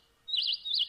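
A short bird chirp sound effect, two quick high tweets back to back, clear and alone.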